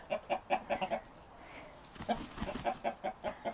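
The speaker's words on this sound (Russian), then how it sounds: "Вот такие куры." Several chickens cluck in quick repeated bursts nearby outdoors in cold, snowy conditions, a short pause, then more clucking picks up again in an uneven rhythm.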